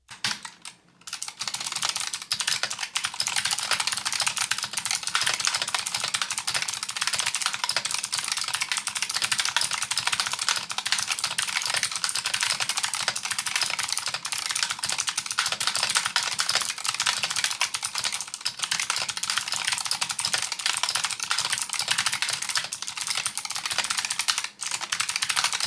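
A Razer Huntsman Mini 60% mechanical keyboard with clicky purple optical switches is typed on quickly and continuously, producing a dense, crisp stream of clicking keystrokes close by with no voices.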